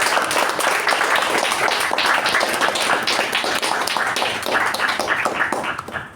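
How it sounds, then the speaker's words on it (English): Attendees at a club meeting break into a vigorous round of applause, loud and sustained with distinct clap textures throughout before trailing off at the end. "let's all give ourselves a huge round of applause."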